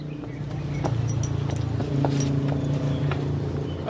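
Hooves of a mare clip-clop steadily as she is ridden outdoors, close and fairly loud, with a few faint rustles and no talk over the steps.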